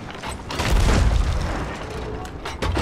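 Cannon fire booms in a Sea of Thieves ship battle, a deep low rumble swelling and fading over a couple of seconds with a further thud near the end, set in a busy game mix.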